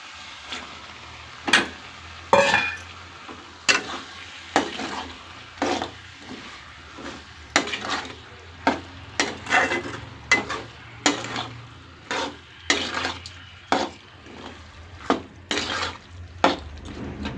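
Prawns sautéing in a pan with onion, tomato and ginger paste for prawn thokku, a soft continuous sizzle broken by regular sharp scrapes and knocks of a ladle against the pan, close up and without talk.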